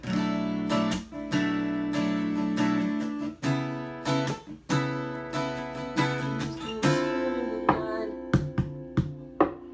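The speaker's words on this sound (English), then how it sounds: "body percussion that I play usually with my knuckles and my fist on the top of the guitar" Acoustic guitar chords ring out while knuckles and a fist knock on the top of the guitar body, adding sharp percussive hits in a rhythmic pattern. Strums and knocks alternate closely and clearly, with no voices.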